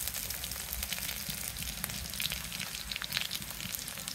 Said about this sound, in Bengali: পেঁয়াজ আমার হয়ে গেছে, এখন দিয়ে দেবো জিরা বাটা